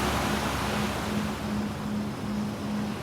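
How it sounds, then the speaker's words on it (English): Steady broad wash of ocean waves under a faint repeating low hum, continuous and fairly loud with gentle swells in level throughout, no talk. "enjoy the calming sounds of the ocean"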